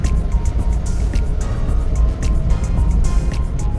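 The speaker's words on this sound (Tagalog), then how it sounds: "naririnig nyo yung vacuum ng turbo" A Suzuki DA17W 4x4 turbo with automatic transmission accelerates on a straight road, its engine droning loudly and steadily with faint, repeated high turbo whooshes and hisses riding over the rumble.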